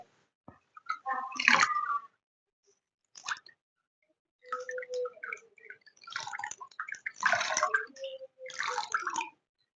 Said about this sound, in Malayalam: അത് വെള്ളത്തിൽ നനച്ചിട്ട് പിഴിഞ്ഞെടുക്കുക